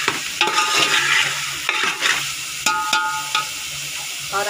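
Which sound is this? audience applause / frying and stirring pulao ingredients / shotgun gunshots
frying and stirring pulao ingredients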